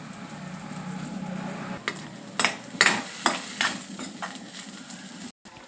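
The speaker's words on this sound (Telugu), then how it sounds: "ఈ ఫ్రై మధ్యలో ఇలా తిప్పుతూ ఉండాలి, అడుగంటకుండా." Curry being stirred as it fries in oil in a pan, a steady sizzle with several sharp scrapes and knocks of the spoon against the pan, close and fairly quiet.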